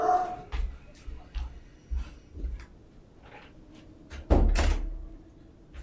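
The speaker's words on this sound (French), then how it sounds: "Je ferme la porte là" A door shuts with a solid thud near the end, after a stretch of soft footsteps and shuffling, while a dog whimpers faintly in the background.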